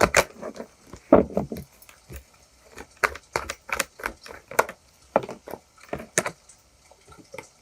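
Tarot cards handled and pulled from a deck, giving a string of soft, close taps, slaps and shuffling clicks in irregular bursts, with no talk over them.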